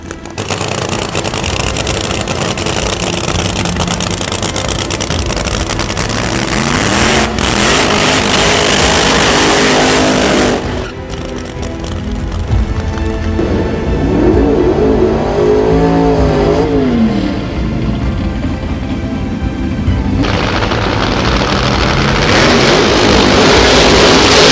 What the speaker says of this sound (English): So Terry Vance doing the burnout on the Vance and Ryan Suzuki motorcycle.